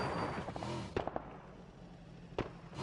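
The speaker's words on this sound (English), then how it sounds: "Yeah, gunfire." Gunfire in a first-person shooter video game: a few sharp, fairly loud cracks in quick succession near the middle and another isolated shot near the end, over a noisy game background.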